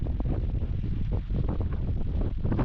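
Steady wind buffets the microphone outdoors, a continuous, close rumbling rush with no one talking.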